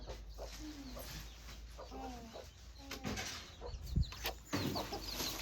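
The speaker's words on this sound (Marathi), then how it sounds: "अरे कोंबडीचे पिल्लू गेलं" Hens cluck and small chicks peep in short bursts, with background chatter and a few thumps; the birds sound close but not loud.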